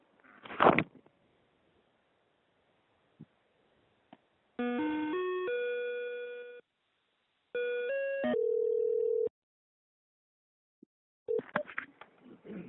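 Telephone tones on a line while an office call is put through to another staff member: a click, then two stretches of steady buzzing ring tone separated by a pause, with faint handling noises at the start and end.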